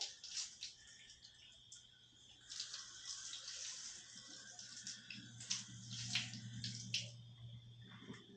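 Water from a hose splashes and patters onto a bowed wooden board in a garage, a continuous hissing spray with irregular splashes and drips, fairly faint.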